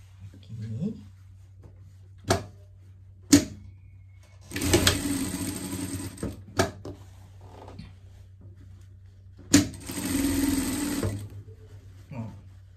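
Two short bursts from a sewing machine stitching a pet dress, separated by quiet pauses with sharp clicks and knocks of fabric handling and faint background hum.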